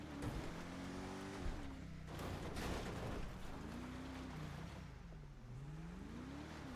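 A car driven in the game GTA, its engine revving up and down in pitch with tire squeal, loud and continuous with no talk.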